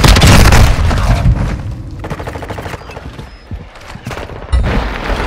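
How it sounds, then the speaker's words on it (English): Airstrike explosions in Modern Warfare 2 multiplayer: a loud booming blast opening, rolling rumble and rapid crackling gunfire, then another heavy thump near the end, dense and close. "Hostile airstrike near your location."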